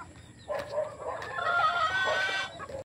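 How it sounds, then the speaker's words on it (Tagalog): Breeding hens and chickens on a gamefowl farm cluck and call at close range, with one drawn-out crowing-like call rising over the steady clucking. "Ito na yung ating mga inahin."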